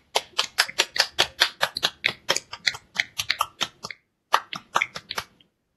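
A small audience gives sharp, distinct handclaps for the speakers at a closing symposium. The claps come in an uneven rhythm, pause briefly near the end, then return for a few last claps.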